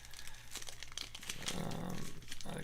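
Packaging around a century duck egg crinkles and tears in quick, close bursts of rustling plastic, with a low hum running underneath.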